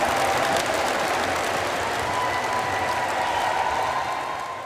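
Public crowd applauding and cheering for a prime minister arriving at a multisport complex in Mauritius, a dense steady wash of clapping that fades slightly at the end.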